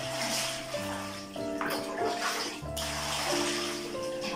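Running water splashes and pours steadily over sweet potatoes in a plastic colander, with a constant wash of liquid over background music tones.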